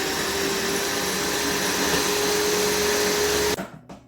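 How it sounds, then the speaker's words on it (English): An electric grinder blends masala for Afghani chicken gravy, a loud, dense, steady roar that runs unbroken for several seconds and then stops abruptly, leaving a few faint rattles. "Now I'm gonna grind this."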